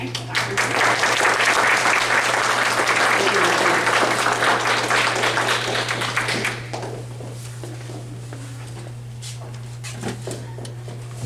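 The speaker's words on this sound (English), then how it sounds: "So let's hear it for a wonderful speaker tonight, Dr. Grable." Audience applause for a guest doctor after an evening talk on medicine, a dense, loud burst of clapping filling the room for about six seconds before thinning to a few scattered claps and room noise, over a steady electrical hum.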